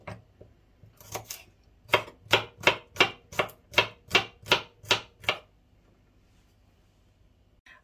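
A knife chopping garlic on a board, a steady run of about a dozen crisp, evenly spaced taps close up, followed by quiet.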